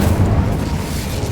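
The Incendio fire spell in Hogwarts Legacy erupts as a loud, continuous whooshing roar of flame, dense and booming throughout a brief burst with no voice over it.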